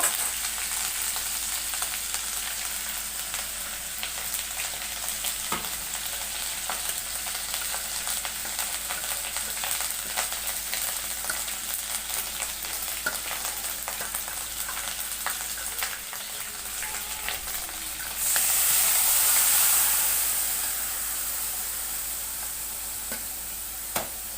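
Dry ground spices loosened with water bubble and sizzle in a pan, a steady close frying hiss with faint stirring clicks, swelling into a brighter, louder burst of sizzle near the end.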